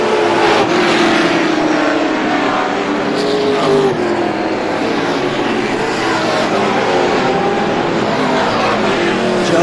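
Pro stock race cars in the Granite State Pro Stock Series roar around Star Speedway, a loud continuous engine drone with overlapping cars, shifting pitch and no letup across the whole stretch.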